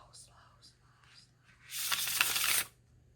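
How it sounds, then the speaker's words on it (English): A deck of Vlad Dracula tarot cards being shuffled, a short soft riffle followed by a dense one-second burst of crisp card flutter, close and fairly loud, with quiet breathy sounds before it. "But I have to shuffle it one more time."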